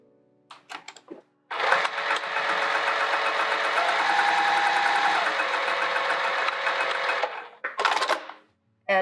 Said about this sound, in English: we're going to sew that down